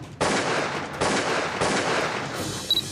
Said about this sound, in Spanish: Cámaras de vigilancia captaron cuando los delincuentes abrieron fuego y las personas huyeron desesperadas.